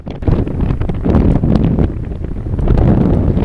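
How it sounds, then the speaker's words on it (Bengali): Strong wind roars steadily at sea on the Atlantic before a storm, a loud continuous gusting rush buffeting the microphone throughout. "আপনাদেরকে যদি একটু বাতাসের গর্জন শোনাই তাহলে আপনারা হয়তো বুঝবেন"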